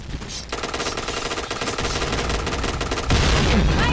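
Rapid automatic HK-417 rifle fire in the shooter game Point Blank, sounding as loud continuous bursts of gunshots that run the whole stretch and intensify toward the end.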